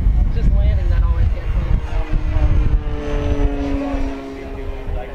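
An FMS Ranger radio-controlled airplane comes in to land at an RC flying event on a windy day, its propeller engine whining loud and close, with the pitch sliding down as voices talk over it.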